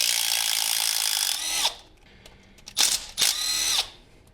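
Power tool spinning out 10mm bolts on an Acura Legend during rear main seal work: a long steady whir, then short separate bursts of ratcheting driver noise, close and fairly loud with no talking.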